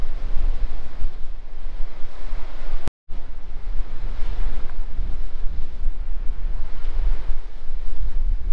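Waves breaking and surging at Porth Chapel Beach in Cornwall, with steady wind buffeting the microphone into a broad continuous roar and a brief dropout near the middle.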